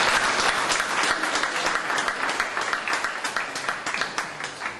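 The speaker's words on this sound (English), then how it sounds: "That round of applause." A live event crowd gives a round of thanks with sustained applause, many hands clapping in a thick, continuous wash that gradually thins and softens toward the end, with no voices standing out.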